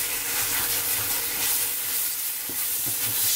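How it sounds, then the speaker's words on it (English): Prawn curry masala stirred in a hot pan: a constant loud sizzle and hiss of frying with occasional scraping spoon strokes, close up. "so keep stirring all the time."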